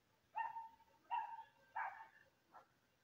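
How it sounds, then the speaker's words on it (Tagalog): Dogs barking outside, faint and distant: three evenly spaced barks, then a weaker fourth bark, against a quiet background. "pasensya sa mga aso na tumatahol. Marami kasing aso sa labas."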